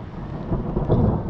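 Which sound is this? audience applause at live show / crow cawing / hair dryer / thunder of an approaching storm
thunder of an approaching storm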